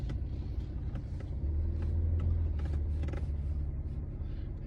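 A truck slowly backs toward a trailer coupler to hitch onto a ball, producing a steady low engine rumble with faint creaks and clicks throughout, swelling slightly midway.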